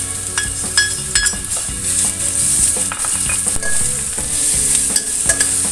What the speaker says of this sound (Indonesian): Tumis sampai bumbunya harum.